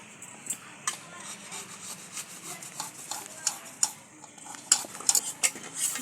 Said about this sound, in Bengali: নলেন গুড়ের পাটালি নিয়েছি, এটা আমি এই গ্রেটারে ভালো করে গ্রেট করে নেব